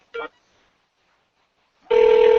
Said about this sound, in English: can you hear my phone ringing there?